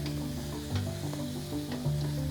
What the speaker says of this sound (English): I throw the duck in there, stir fry it, and it smells so good